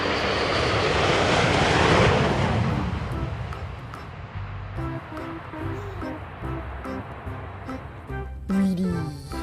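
A toy fighter jet gives off a loud, rushing jet-engine roar that fades gradually into quieter background noise, with a voice speaking briefly at the end.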